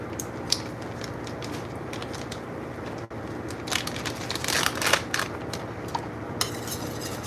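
A food package is torn and crinkled open in a kitchen while mushroom truffle mac and cheese cooks, giving a run of close, crackly rustles that grow busier midway over a steady background hum.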